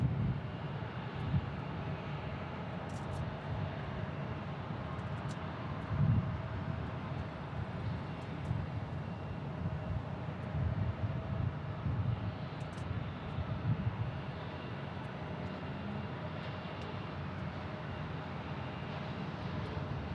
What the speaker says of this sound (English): Southwest Airlines now inbound here.